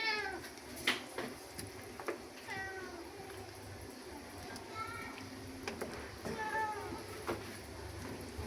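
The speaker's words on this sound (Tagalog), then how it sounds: "Yung pusa ko nag-iingay. Pag nakaamoy siya ng ulam," A cat meows repeatedly in a kitchen while chicken tinola cooks, several rising cries spaced a couple of seconds apart over a steady low background hum.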